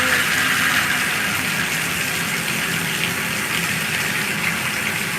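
Lukewarm water gushes steadily from a tap, a loud, continuous broadband rush that holds even for the whole stretch with no pauses.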